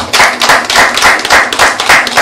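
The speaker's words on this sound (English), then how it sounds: "Can we extend a round of applause to all our panelists?" An audience at a business panel discussion gives the panelists a round of applause, dense and steady with many hands clapping together, loud and close, with no talking.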